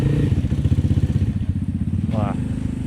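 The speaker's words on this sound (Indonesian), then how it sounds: "Wah, langsamnya enak motornya." A scooter engine ticks over at idle with a steady, close-up chugging pulse, while someone talks over it throughout.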